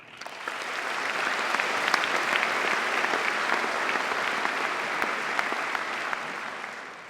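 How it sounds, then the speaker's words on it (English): Sustained applause from a large crowd at a university graduation ceremony, even and continuous, swelling in briefly at the start and fading slightly at the end. "I'd just like to have a little round of applause for that"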